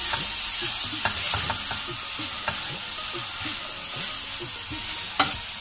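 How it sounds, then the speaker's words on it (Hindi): Chicken pieces frying in melted butter in a pan, a loud continuous sizzle with repeated stirring scrapes and occasional sharp clicks of a utensil against the pan. "अब मैं इसके अंदर चिकन ऐड करूंगी चिकन को थोड़ा सा मैं फ्राई करूंगी"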